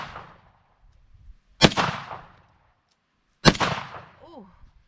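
A JTS M12 AR airsoft rifle fires two sharp, loud reports spaced about two seconds apart, each decaying quickly, with a brief voice between and after the shots.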